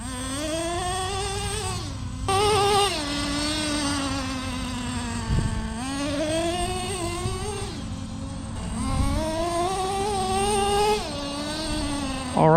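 A Traxxas T-Maxx 3.3 nitro RC truck engine screams at full throttle during break-in, a high buzzing whine held in bursts of about three seconds that drop briefly between runs, close and loud with no talking.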